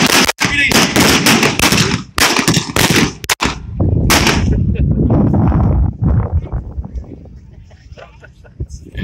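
Gunshots ring out in a staged western street shootout in a Six Gun Territory show, several loud sharp cracks in quick bursts, some echoing, mixed with crowd voices and talk.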